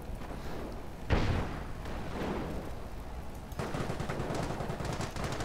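Mortar blasts and rattling gunfire in a Company of Heroes mod battle: a sharp impact near the one-second mark, then continuous machine-gun bursts and crackling shots that swell again toward the end, with no voices over them.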